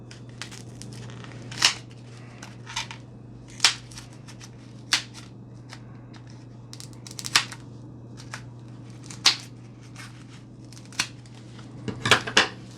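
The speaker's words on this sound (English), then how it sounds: "we're going to take our scissors and we are just going to cut it flush" Scissors snip through foam and tape on a sword kit in a quiet room, giving about a dozen sharp, separate cuts spaced irregularly over a low steady hum, with a quicker cluster at the end.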